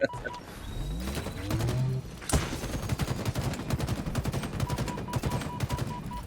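Rapid automatic gunfire in the video game Halo, with a sharp single shot near the start and a dense stream of quick shots continuing to the end, close and fairly loud.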